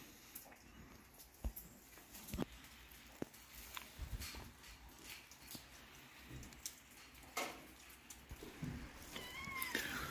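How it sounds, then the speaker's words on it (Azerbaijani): A black cat meows softly a few times in a quiet outdoor space at a villa in Mardakan, with scattered light taps and rustles around it. "qabağımıza qara pişik də çıxdı"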